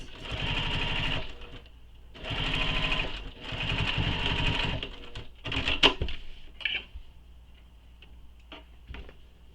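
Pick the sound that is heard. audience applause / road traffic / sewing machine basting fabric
sewing machine basting fabric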